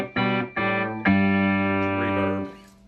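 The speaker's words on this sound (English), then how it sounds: "It's got two separate reverbs, one for the clean and one for the dirty channel" Marshall DSL40c guitar amp playing guitar notes and a sustained chord through its digital reverb, three struck attacks each ringing out with a smooth lingering tail, close and fairly loud with no talking.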